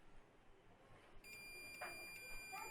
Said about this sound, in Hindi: तो यहाँ पे देख सकते हैं बीप की आवाज़ आ रही है।